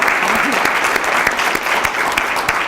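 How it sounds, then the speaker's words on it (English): An audience at a district community dialogue event applauds steadily, dense clapping filling the room at an even level from start to finish, with a faint voice briefly rising beneath it. "let's give them a hand clap and appreciation"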